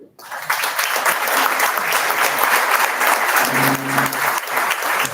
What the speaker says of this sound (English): please join me in a round of applause for Sid Chambers